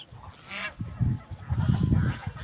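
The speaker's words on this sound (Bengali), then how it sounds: "হাঁস আর হাঁস।" Farmed geese honk repeatedly at close range, in a run of rough, overlapping calls over a steady background hiss.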